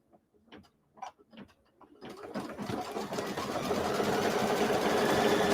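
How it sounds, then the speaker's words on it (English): A sewing machine running a blanket stitch on a mini quilt, starting after a few soft clicks and handling sounds, then a steady loud mechanical whir that builds and holds to the end. "Final blanket stitch."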